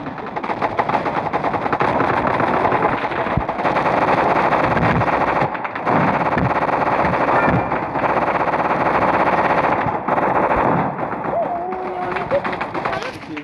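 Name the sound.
gun reloading and firing in Roblox video game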